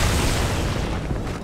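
A deep, rumbling explosion in the Halo 2 co-op campaign on Legendary, a loud sustained boom filling the whole clip with heavy low-end roar and no voices over it.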